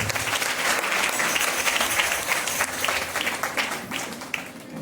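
A church congregation at a Sunday service claps loudly and steadily, a dense, sustained wash of applause filling the room for several seconds.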